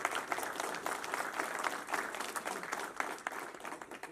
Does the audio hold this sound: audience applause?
yes